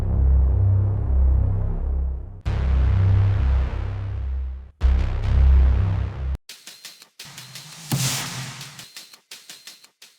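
Thick, heavy bass line in an orchestral-electronic score, playing alone in long sustained low notes that restart in three sections before giving way to brighter, choppier rhythmic parts.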